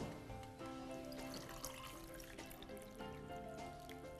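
Water pours from a glass in a home kitchen while a dish is being prepared, a continuous splashing trickle that stays steady throughout, with no one talking.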